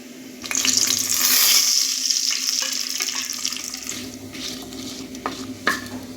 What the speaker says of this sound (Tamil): தாளிக்கிற மசாலாவை போட்டுக்கலாங்க.